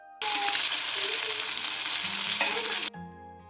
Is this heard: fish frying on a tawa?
yes